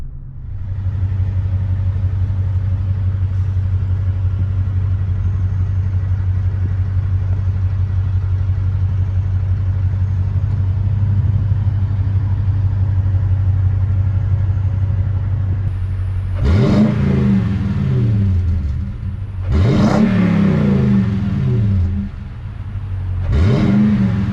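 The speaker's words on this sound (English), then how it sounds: "The stock exhaust is throaty and has a nice rumble when accelerating" A deep Toyota Tundra V8 pickup engine drones steadily through its stock exhaust, then revs sharply three times near the end, each burst rising in pitch with a throaty exhaust rumble.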